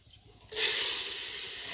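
Lentils (dal) hit a hot pan for khichuri with a sudden loud sizzle. It bursts in after a short quiet moment and keeps hissing steadily and close up.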